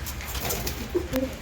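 Domestic pigeons kept in a home loft, a pair with fresh eggs, give a short burst of soft, throaty cooing close by, two or three low coos over a steady background hiss.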